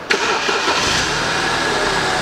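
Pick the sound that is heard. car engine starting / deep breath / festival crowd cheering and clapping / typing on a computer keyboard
car engine starting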